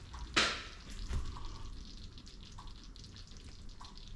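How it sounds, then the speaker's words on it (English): Beef stew with carrots and tinned potatoes bubbling hard in a pot: a steady soft simmering hiss with a sharp splash or pop near the start, close and moderately quiet, with no talking. "Ooh, it's bubbling like crazy."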